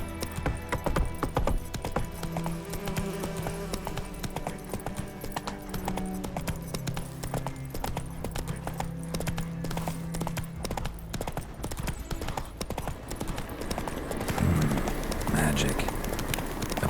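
Hooves of the horse Roach clip-clopping at a steady gait in The Witcher 3: Wild Hunt, a dense rhythmic clatter under a game soundtrack and ambience, with a brief burst of movement noise near the end.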